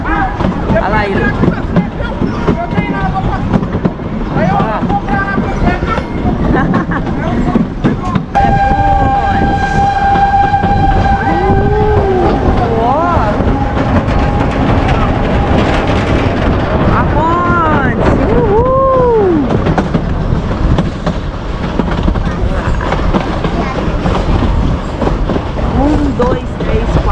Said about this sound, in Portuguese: Tem mais dois para trás. São 9 vagões